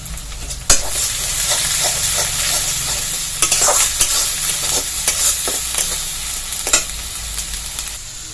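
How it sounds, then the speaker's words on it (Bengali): Onion, ginger, garlic, green chili and tomato paste frying in a pan for a fish curry, a loud continuous sizzle broken by repeated scraping strokes of a spoon stirring, close and without speech. "পেঁয়াজ, আদা, রসুন, কাঁচা লঙ্কার কাঁচা গন্ধটা যাওয়া অবধি একটু নাড়াচাড়া করে নেব"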